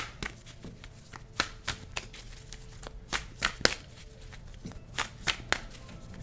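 Tarot cards are handled and shuffled up close, giving soft papery riffles and sharper snaps in irregular bursts over a quiet background.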